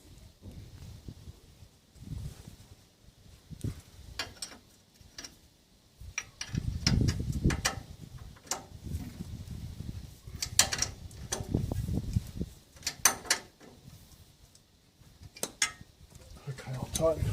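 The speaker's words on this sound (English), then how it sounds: "So what I'm going to do is just tighten these bolts up." A wrench tightens the lower ball joint bolts on a 1995 Holden Rodeo 2x4, giving scattered metallic clicks and ticks in short bursts over a low, shifting rumble of nearby handling.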